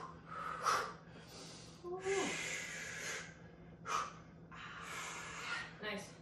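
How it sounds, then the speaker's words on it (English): Heavy, rhythmic breathing during a home workout session, with several loud huffing exhales and gasps close to the mic over a faint steady hum. "Keep breathing."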